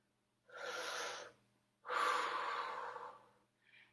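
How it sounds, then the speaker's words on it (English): Two deep, slow breaths taken during a children's superhero yoga routine, a long airy inhale-exhale followed by a second, stronger one, close and soft, then a faint trailing breath, with no talking. "Big breath."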